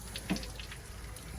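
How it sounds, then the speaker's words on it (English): Water runs and splashes faintly while a car interior is rinsed out, a soft watery hiss with a few small drips and splatters, fairly quiet and close. "So got the water running"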